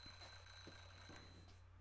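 An alarm clock rings with a bright, continuous electronic tone under a faint steady hum, lasting just under two seconds and fading slightly at the close.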